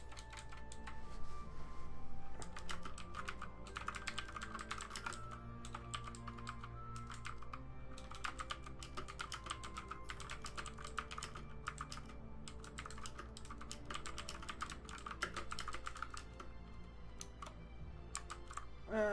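A computer keyboard clatters in a steady run of quiet, close keystrokes that carries on for nearly twenty seconds, with brief pauses between bursts and low background hum underneath.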